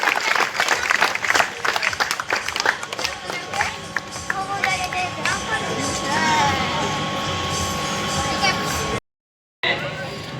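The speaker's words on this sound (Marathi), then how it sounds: "आपण सगळेजण टाळ्या वाजवणीच स्वागत करूयात अभिनंदन करूयात" Applause from an audience at a ceremony honouring a student qualified for medical studies, a crowd clapping steadily and fairly close amid chatter, mixed with crowd noise, before a brief dropout near the end.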